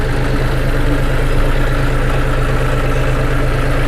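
A John Deere 5039D tractor engine runs steadily while the tractor is driven, a loud, continuous low diesel drone heard close up with no talking.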